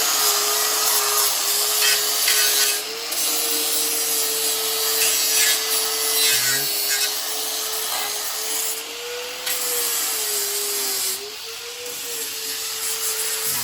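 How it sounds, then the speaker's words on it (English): A power grinder works steadily over the rusty frame of a Toyota Tacoma, giving a loud, continuous abrasive whine with a sustained motor tone that dips briefly at a few points as it is pressed against the metal. "So you're gonna grind all that clean."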